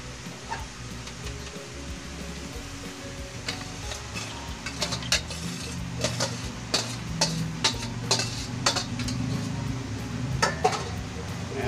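Mixed vegetables and jicama stirred in a cooking pan, with repeated clinks and scrapes of a utensil against the pan over a faint sizzle.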